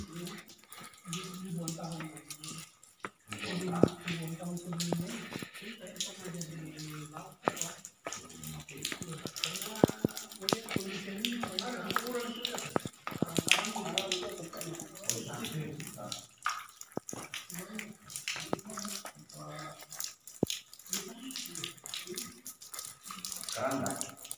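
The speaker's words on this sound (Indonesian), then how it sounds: "Tetesan-tetesan air kita saksikan." Water trickles and drips steadily in an echoing cave while someone talks over it for most of the stretch.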